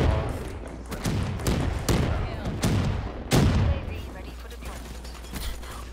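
Gunfire in a video game while defending a position, a series of spaced heavy shots and thuds at a steady pace with a low rumble beneath, and a person talking at times between them.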